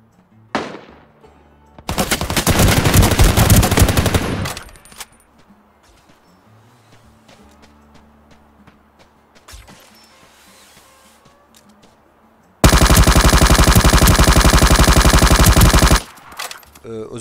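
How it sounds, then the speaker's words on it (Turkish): A grappling hook in the video game Ring of Elysium fires with a loud burst, followed by softer clanks and rattles, then a second long, loud whirring rush as the hook reels the player in. "Özellikle ilk attığınız o saplanma sesi ve kendinizi çekerkenki ses çok yüksek."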